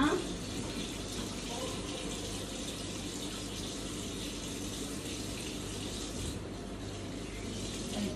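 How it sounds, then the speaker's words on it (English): Tap water runs steadily into a sink as hands are washed beneath it, a soft continuous splashing flow, fairly quiet and close. "first of all, I've got to wash my hands"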